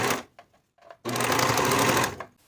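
A sewing machine topstitches the seam allowance on athletic shorts: a couple of short stitching bursts, then a loud, close, steady whir lasting about a second before it stops.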